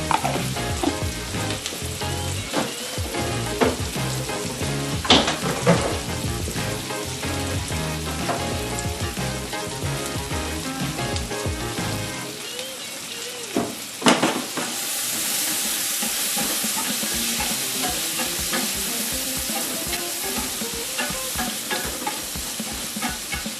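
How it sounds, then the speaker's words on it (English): Swordfish fillet sizzles steadily in a hot pan as wine and butter go in to deglaze, with a continuous close frying hiss, intermittent stirring and scraping, and a louder bright burst of steam partway through; no voice. "I'm going to add a little more wine to this to deglaze the pan again."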